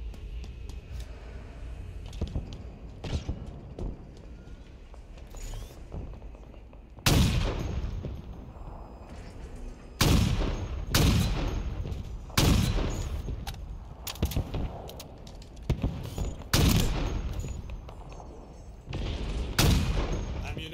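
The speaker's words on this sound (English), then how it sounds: "It's a sniper rifle." Sniper rifle shots in a video game: about seven loud, sharp blasts spaced irregularly over the span, each with a brief ringing tail over a low, steady game background.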